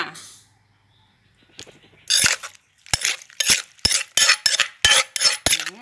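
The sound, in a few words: mixing Thai cucumber salad ingredients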